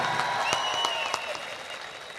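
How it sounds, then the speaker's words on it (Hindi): An audience applauds at an Urdu poetry recital, with loud, dense clapping and a few sharper claps standing out as it slowly tapers off. Faint tonal sounds run through it. "एक बार जोरदार तालियों से।"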